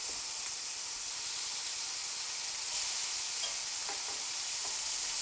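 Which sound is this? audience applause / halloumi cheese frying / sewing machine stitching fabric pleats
halloumi cheese frying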